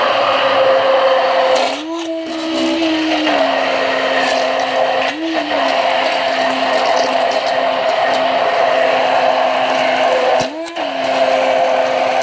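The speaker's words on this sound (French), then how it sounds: "avec un mixeur plongeant comme ceci, vous allez battre le tout" Immersion blender whirring steadily as it beats vegan mayonnaise, a loud continuous motor hum with a few brief pitch rises as the blade shifts in the mix.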